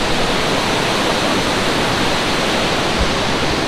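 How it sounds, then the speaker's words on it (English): Box Falls, a waterfall pouring through an eroded section of quartzite in Colorado's mountains, roars as a loud, steady, broadband rush with no break and no voices. "Listen to the roar of that and look at that water pour through that eroded section of quartzite right there"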